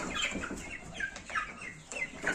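Plymouth Rock hens and a rooster cluck in a farmyard, with several short, fairly soft calls spaced irregularly and a light background hiss.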